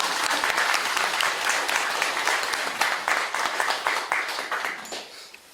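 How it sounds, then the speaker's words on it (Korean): Applause from a temple assembly at a Korean Buddhist monastery's retreat-closing Dharma talk: dense, steady clapping from many hands filling the hall, holding strong before thinning out toward the end. "진심으로 고생했다는 어떤 박수를 한번 쳐주십시오."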